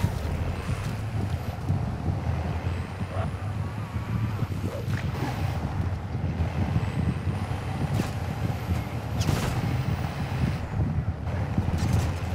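A vehicle driven in Call of Duty, a steady, loud engine rumble with rushing wind and road noise running throughout, plus occasional creaks and hisses.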